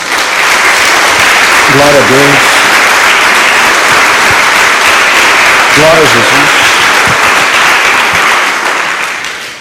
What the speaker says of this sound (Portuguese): Se você pode, dê uma salva de palmas a Jesus.